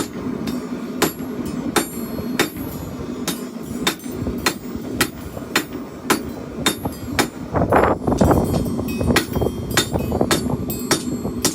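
Repeated hammer blows ring out on an anvil as a chopper blade is forged, sharp metallic strikes landing in a steady rhythm of roughly two per second, close and loud over a low background hum.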